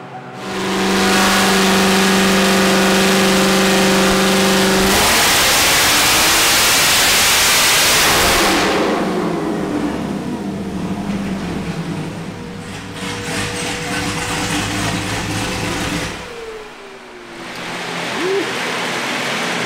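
Truck engine with an LMP Stage 4 setup roaring on a dyno, a loud sustained wide-open rev that holds, then eases into a lower rumbling drone with the surge of rushing air and rolls.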